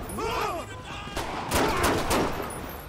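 Rapid bursts of gunfire from a suspect in the video game GTA 5 during a police patrol, several close, loud shots in quick clusters, with voices talking just before the volley.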